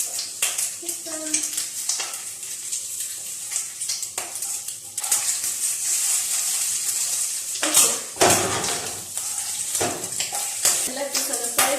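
Bacon slices sizzling and spitting in a frying pan, with a steady crackle throughout broken by clatter of a utensil against the pan as the strips are turned.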